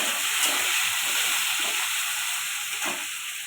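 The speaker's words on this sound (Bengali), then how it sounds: "একটু লবণ, এটা এবার নাড়তে থাকবে।" Cabbage and shrimp are stirred in a hot frying pan with turmeric and salt, making a steady close sizzling hiss with soft irregular stirring scrapes underneath.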